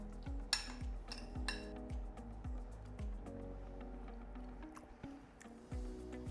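A spoon clinks and scrapes steadily inside a bowl as salt and pepper are mixed into a vegetarian weight-gain meal, with repeated close, light knocks and soft squishy stirring.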